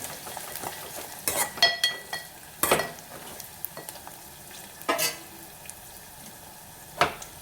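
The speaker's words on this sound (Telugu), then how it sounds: "కరివేపాకు కూడా ఆయిల్లో మంచిగా వేపుకోవాలి" Curry leaves and onions frying in oil for tamarind rasam, with a steady sizzle and occasional stirring clanks of a spoon against the pan at close range, no talking.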